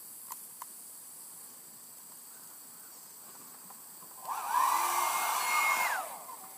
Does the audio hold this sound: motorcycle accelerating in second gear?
no